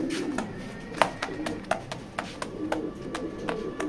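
A red checker pigeon at a pigeon loft, with soft cooing and bird calls scattered among sharp clicks and handling noises, near and moderately loud, over a low background murmur.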